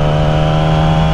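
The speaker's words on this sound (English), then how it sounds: "This engine is about to get real warm real fast." A motorcycle engine runs loud and close, holding a steady hum with a strong low drone, rising in pitch without clear gear changes.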